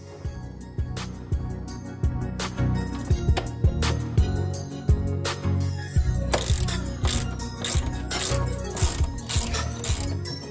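A ratchet spins off two M10 bolts inside the rear wheel arch of an Audi A6, giving rapid, close clicking bursts in an uneven rhythm with brief pauses between runs, loud and alone.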